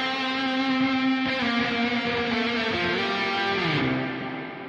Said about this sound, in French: Évidemment, on va allonger cette reverb.